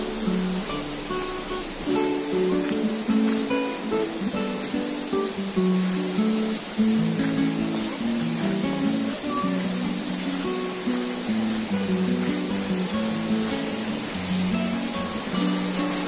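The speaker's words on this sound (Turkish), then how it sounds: "Aha şelale burada." A roaring waterfall visited on a day trip to the highlands, a dense, even wash of rushing water that fills the whole clip at close range, with a faint musical tone running beneath it and no talking.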